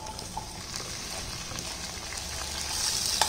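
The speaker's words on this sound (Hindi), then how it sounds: "अब ये जो भिंडी हमने मसाला वाली तैयार की थी इसको हम डाल के फ्राई कर लेंगे।" Masala-coated okra fries in hot oil in a wok, giving a steady soft sizzle with faint crackles, quiet and close, swelling slightly toward the end.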